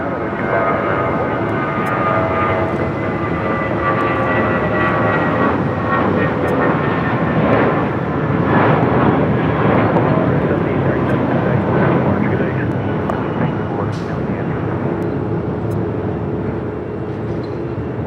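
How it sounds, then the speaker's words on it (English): United airliner departing LAX runway 25 right at full length, a sustained loud jet engine roar with tonal whine, swelling slightly midway as the plane accelerates, continuous and fairly near. "United 1912, wind calm, RNAV Docker, runway 25 right, full length, clear for takeoff"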